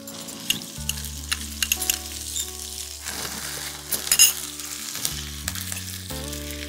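Grated ginger frying in oil for vegetable tehari, a steady close sizzle with light stirring and occasional clinks against the pan, over soft background music.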